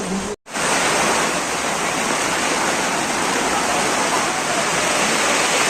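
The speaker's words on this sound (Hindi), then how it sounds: "ये बारिश मूसलाधार बारिश है।" Heavy, torrential rain pours in a dense, constant roar after a brief gap at the start, loud and close.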